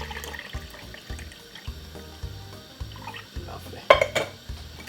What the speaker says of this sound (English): I just squeeze out an orange juice. Just gonna simply pour it straight inside of it like this.